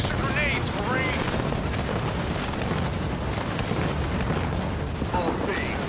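Grenade blasts and rattling gunfire from Marines in the Halo Wars 2 strategy game, a dense continuous barrage of booms and shots layered with game voice callouts.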